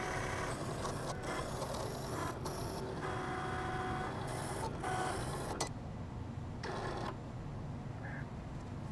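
A Cricut cutting machine slices copy paper for a graduation card, giving a steady mechanical whir with ratcheting, stop-start carriage movements and short pauses, close and continuous throughout.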